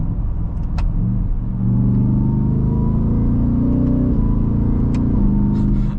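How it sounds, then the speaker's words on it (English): Deep rumbling engine of a 2024 Ford F-150 Raptor R under way, steady drone with a gear change partway through and a few faint crackling exhaust pops, heard close from inside the truck. "Those had little baby pops on the upshifts on those."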